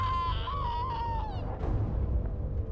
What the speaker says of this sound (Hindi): किसी औरत की चीख